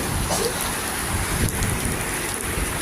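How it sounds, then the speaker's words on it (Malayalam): Heavy rain and wind from Cyclone Fengal over flooded areas of Tamil Nadu, a steady dense hiss of rain on surfaces with gusty rushing underneath, close and continuous, no talk heard. "ശക്തമായ കാറ്റും മഴയുമുണ്ട്"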